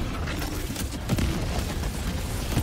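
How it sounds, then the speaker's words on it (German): Dense, rumbling blasts as a shot is fired at a tank in the video game Helldivers 2, loud continuous booming noise with a heavier hit partway through and no voices. "Ich mach den ersten Schuss drauf."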